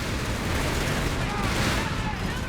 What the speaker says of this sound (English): Incendiary shells inbound on enemy sector.